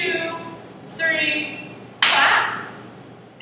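Hands clap sharply during a hip hop dance step, one crisp clap landing on a counted beat with a softer hit just before it, close by under a spoken count.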